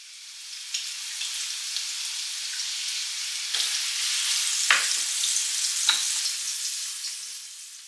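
Salmon frying in a pan with masala spices, a steady close hiss and sizzle with a few sharper pops and crackles scattered throughout, and no talking.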